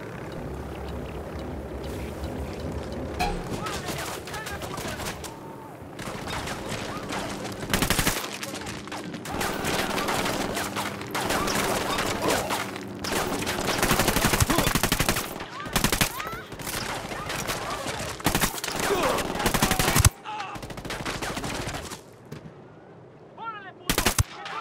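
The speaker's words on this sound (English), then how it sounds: "Opening fire on these fuckers." Heavy automatic gunfire in Ghost Recon Wildlands during a boat lab mission, dense overlapping bursts and fusillades running throughout with brief gaps and sharp individual shots near the end.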